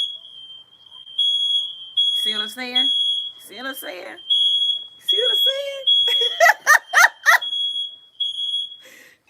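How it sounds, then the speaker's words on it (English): A smoke or fire alarm sounds as a steady, piercing high tone through the whole clip, while someone talks loudly over it and a dog barks in short bursts. "fire alarm going off"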